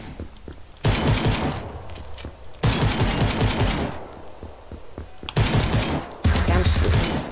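Rapid SMG-style gunfire bursts in the browser shooter Krunker, loud close bursts separated by short quieter gaps of game ambience.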